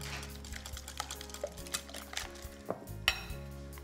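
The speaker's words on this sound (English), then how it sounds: "I'm going to whisk the ingredients together." Carbonara ingredients with about a cup of Canadian Parmesan being whisked together in a bowl: a quiet run of irregular light clicks and taps against the bowl, steady and close, with no talk.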